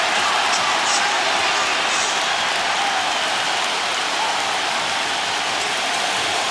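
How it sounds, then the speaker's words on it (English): The crowd at Game 5 of the 2004 NBA Finals between the Pistons and Lakers in Detroit roars throughout, a loud, continuous wash of noise from a packed arena with no break. "Crowd roaring."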